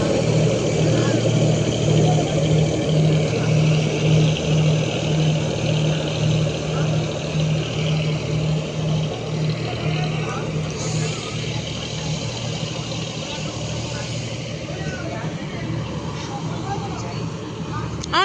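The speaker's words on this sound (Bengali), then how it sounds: "ওই তো আসছে লঞ্চ।" A ferry launch crossing the Ganges approaches with a steady, low, throbbing engine drone and hum. The sound holds constant and fairly loud, with faint background noise throughout.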